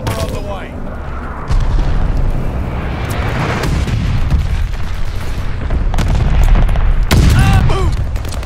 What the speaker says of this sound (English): Teammate called a bombing run. Heads up. Allied glide bomber on the way.